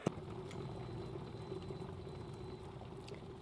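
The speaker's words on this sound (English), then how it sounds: "So it makes that sound indicating that it's done boiling." A SAKI Luna Pro electric kettle filled to the max line boils water, giving a steady, moderately quiet bubbling rumble with a brief click at the start and no talk.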